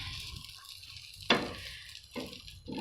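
Egg omelette with onion and coriander frying in a pan without extra oil, a quiet low sizzle broken by one sharp spatula scrape and a couple of softer scraping touches.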